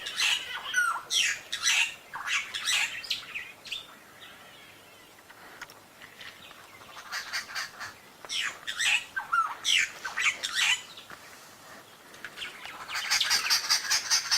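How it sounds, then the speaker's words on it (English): Babblers screech and chatter in loud, harsh bursts at an African bush site around sunset, rising and falling in several waves, close and busy with no talk over them. "It's just the babblers, and because all these birds are around here, they were screeching earlier."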